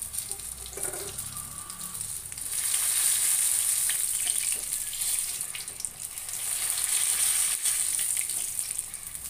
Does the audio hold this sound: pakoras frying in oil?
yes